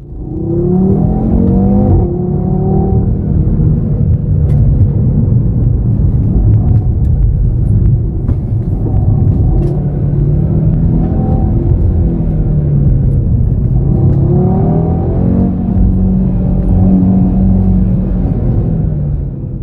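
An Audi TT engine revs loudly and close, rising and falling in pitch with a deep rumbling throb throughout.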